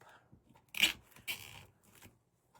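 Plastic zip tie zipped tight on a fall pumpkin wreath: two quick ratcheting bursts, the second longer, close and crisp in an otherwise quiet room.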